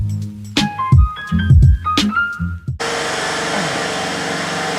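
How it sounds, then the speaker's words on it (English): Clattering knocks and clinks give way to a loud, steady roar of a running air compressor in a garage that continues to the end. "Once again, you'll have to excuse the compressor."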